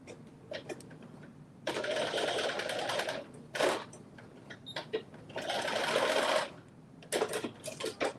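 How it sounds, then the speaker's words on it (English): A sewing machine making a quick stitch back and forth, with two buzzing runs of a couple of seconds each, close and clear, separated by brief clicks and handling noises. "I'm just doing a quick little stitch back and forth."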